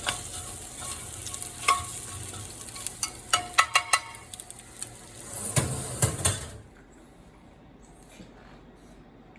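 Brussels sprouts and potatoes frying in a pan while being stirred, a steady close sizzle punctuated by scraping, clattering stirs, ending abruptly in near silence.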